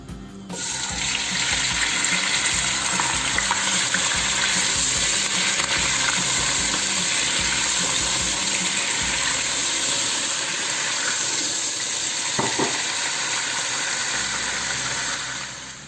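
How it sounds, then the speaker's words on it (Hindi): Raw chicken pieces sizzle steadily in hot oil for restaurant-style chicken, a dense, loud hiss that holds nearly unbroken throughout with no talking. "अब इसमें ये वाली आप चिकन डाल देंगे। ऑयल हमारा गर्म हो गया"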